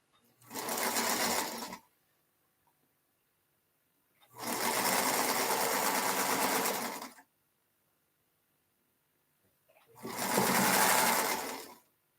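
A sewing machine runs in three separate bursts of a few seconds each, close and fairly loud, with near silence between the runs.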